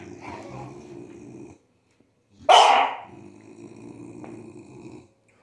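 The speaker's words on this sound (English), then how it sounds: "that's my girl Liv with the bully breathing" An American Bully dog breathes heavily and snorts close by, with one loud snorting burst in the middle, before and after which a lower rumbling, growl-like breath continues.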